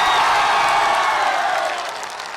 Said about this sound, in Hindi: बिहार वाली, यूपी वाली जो ताली होती है जोरदार बजा के बताइए